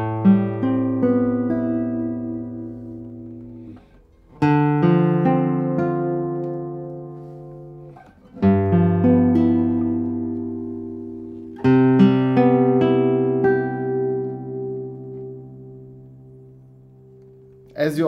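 A traditional Spanish-style acoustic guitar rings out in four strummed chords, each striking sharply and then decaying slowly, with a clear and resonant tone and no voices over it.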